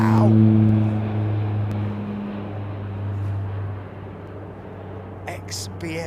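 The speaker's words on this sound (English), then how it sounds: "Aloha Air Cargo 737-300 taxiing at XBMI" An Aloha Air Cargo Boeing 737-300 classic taxiing at an airport gives a steady, loud low engine drone with sustained tonal hum, holding fairly even throughout with a brief higher whine near the end.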